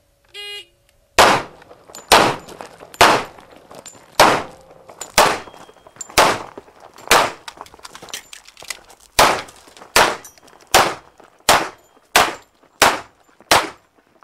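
Handgun shots ring out in a shooting course sequence, about fifteen sharp, loud reports spaced roughly half a second to a second apart, preceded by a brief electronic timer beep.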